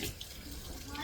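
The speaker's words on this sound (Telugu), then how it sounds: "నీళ్ళు ఎక్కువ పారబోయకండి" Water runs steadily from a tap at home, a soft, faint splashing stream that lasts a moment.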